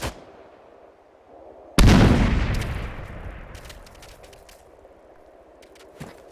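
A single loud, close grenade blast in the combat game ARMA 3 erupts suddenly after quiet ambience, then rumbles and decays over several seconds, with a few faint clicks afterward.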